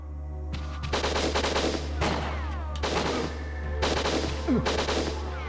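Gunfire from the N64 shooter Winback as guards are taken out: several loud bursts of rapid shots, each lasting about a second, separated by short gaps over a low constant game hum.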